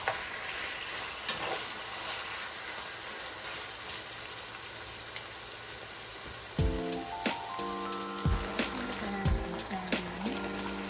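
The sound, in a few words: pork bulgogi meat frying in a pan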